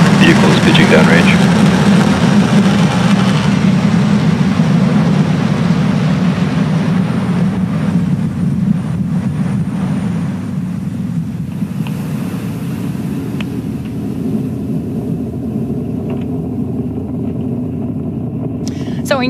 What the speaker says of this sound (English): Falcon 9 has successfully lifted off from Launch Complex 39A at Kennedy Space Center